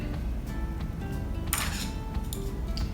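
Beef pho being stirred with Thai basil and lime in a bowl, giving soft scraping and a few light clinks of a utensil against ceramic over a low background hum, close and intermittent.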